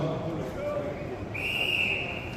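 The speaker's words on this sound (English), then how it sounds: "Listen for the whistle from Darren Sandler." A referee's sharp, sustained whistle blast cuts in partway through a strongman competition, piercing and clear over a busy background of crowd noise and commentary.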